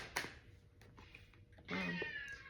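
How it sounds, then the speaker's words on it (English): A house cat meows indoors, two or three short close cries with a longer, louder one near the end, over a faint background hum. "there's my cat meowing"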